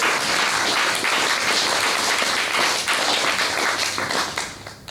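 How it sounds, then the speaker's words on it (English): A theatre audience gives a full round of applause for the cast after a performance, dense steady clapping heard alone that thins slightly toward the end. "Give them another round of applause."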